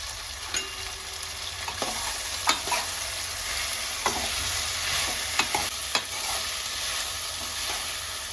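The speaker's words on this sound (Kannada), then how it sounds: "ಇವಾಗ ನಾನು ಒಂದು ಎರಡು ನಿಮಿಷದವರೆಗೂ ಫ್ರೈ ಮಾಡ್ಕೊಂಡಿದ್ದೀನಿ" Ginger, garlic, mint and coriander leaves frying in a pan for egg curry, a steady close sizzle with scattered sharp scrapes and taps of a stirring spoon.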